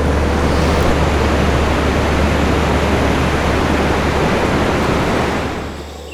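Ocean surf at Ruby Beach on the Olympic Peninsula washes in as a steady, loud broadband roar with no distinct breaks, easing slightly near the end.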